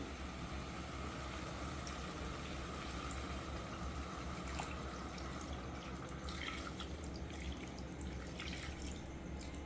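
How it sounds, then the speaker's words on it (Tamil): Water is poured into a pot of chicken masala, a faint, steady trickle and splash with no talking. "தேவையான அளவுக்கு தண்ணி ஆட் பண்ணணும்."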